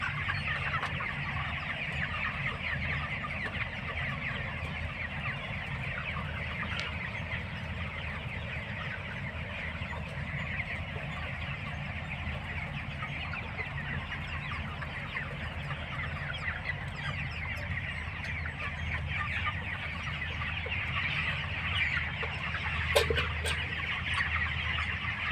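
Broiler chicks and chickens in a poultry house at feeding time, a steady crowded mass of soft clucking and chirping with a faint clatter near the end.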